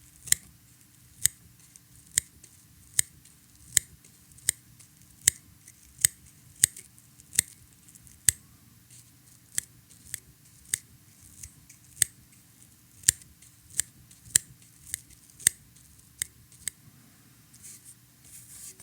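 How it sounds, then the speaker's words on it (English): Small scissors snip away excess material at the tail of a tiny handmade micro popper fly, a steady series of crisp, close metallic clicks spaced roughly every second, with nothing else heard. "trimming up the tail, removing some of the excess that's harder to reach with our longer scissors"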